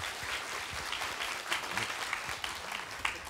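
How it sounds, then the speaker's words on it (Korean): Warm applause from a lecture audience at an economics concert on 2020 trend forecasts, a thick crowd of clapping holding steady for a few seconds, with a faint voice briefly surfacing underneath. "뜨거운 박수 부탁드리겠습니다"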